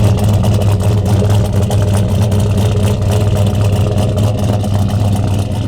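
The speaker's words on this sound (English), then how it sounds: "It's a Magnaflow bullet, but like about this big. That's it. It's a 4-inch exhaust." Chevrolet Silverado V8 running through a 4-inch Magnaflow bullet exhaust, a loud, steady deep rumble with light revving throughout and no talk over it.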